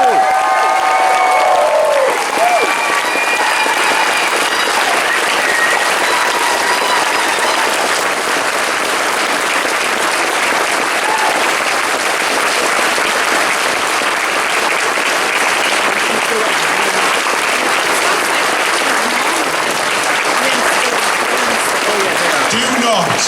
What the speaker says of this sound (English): give these two men another fantastic round of